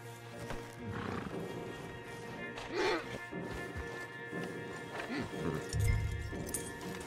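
Horses in Red Dead Redemption 2 clip-clop at a walk with scattered hoof knocks and occasional whinnies amid game ambience and background music, while characters talk over them.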